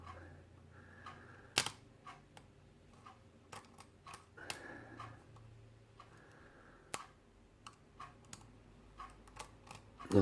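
Pin tumbler lock being picked with an Allen-key tension wrench and a narrow hook, giving faint, close, scattered small clicks and ticks over a quiet background, with one sharper knock midway.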